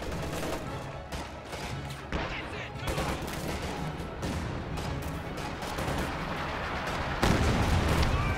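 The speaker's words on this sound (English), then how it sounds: "Pack howitzer has been fielded." Pack howitzer artillery fires in a video game, with dense, repeated booms and overlapping gunfire that run continuously, loud and close, with a heavier blast near the end.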